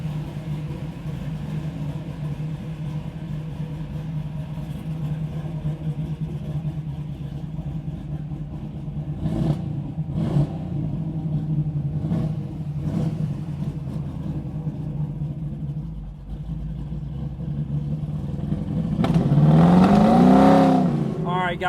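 A 1967 Chevrolet Camaro restomod with a 350 V8 out for a drive, its steady low engine rumble continuous under someone talking, with a few brief bursts and a swelling rev near the end.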